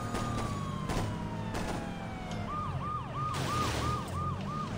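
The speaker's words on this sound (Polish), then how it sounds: "I ten dźwięk policji z GTA 3" Police siren in the Saints Row video game wailing in a repeated rising and falling pattern over steady engine and traffic rumble, loud and continuous, with no talking.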